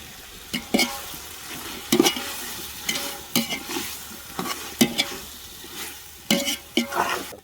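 Tomatoes go into a pan of fried onions for a mushroom biryani, setting off a steady sizzle with repeated scraping stirs of a spoon against the pan, close and continuous without talk.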